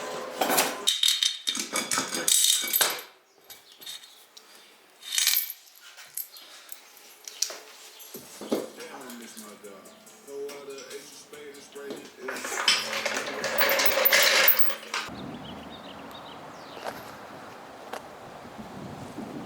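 Metal clinks and rattles come from OEM lug nuts being handled and fitted to the rear wheels of a Yamaha Banshee. The clattering arrives in loud bursts with quieter gaps, and a dog whimpers and speech is heard at times.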